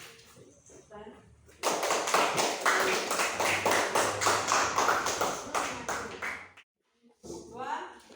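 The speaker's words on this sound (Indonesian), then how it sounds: "kita beri aplaus untuk kelompok 1" Classroom pupils clap for their discussion group, a burst of rapid, ragged applause lasting several seconds, with a teacher's voice before and light chatter after.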